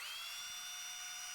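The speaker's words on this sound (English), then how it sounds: "drill those out with a large Forstner bit over on the drill press" A drill press fitted with a large Forstner bit boring into wood gives off a steady, high-pitched whine that holds level throughout, faint and alone.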